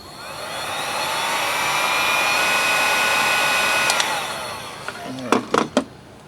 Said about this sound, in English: I'm just going to heat it up a little bit with the heat gun.